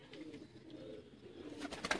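Pure Indian lakha pigeons coo softly nearby, low burbling calls that repeat over two seconds, growing slightly louder toward the end with faint rustling, and no talk.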